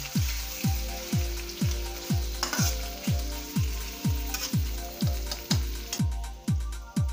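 Chicken karahi fries in a pan with a continuous sizzle, while a spoon stirs in a steady rhythm of about a dozen regular scraping strokes, close and clear with no talking.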